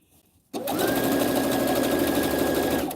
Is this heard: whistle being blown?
no